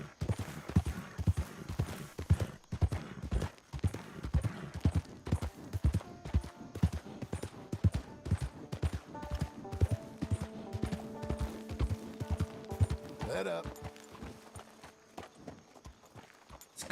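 Horse hooves clip-clop in a steady trotting rhythm while riding in the Red Dead Redemption 2 video game, the hoofbeats loud and close at first, then slowing and fading toward the end as musical tones rise.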